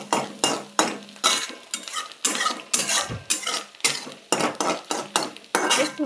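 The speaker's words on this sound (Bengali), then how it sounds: "একটু হালকা করে নেড়ে চেড়ে হয়ে গেল।" Grated coconut fries in oil in a pan while a metal spatula stirs it briskly, producing a steady rhythm of loud scraping clatters against the pan over a soft sizzle, with no voices.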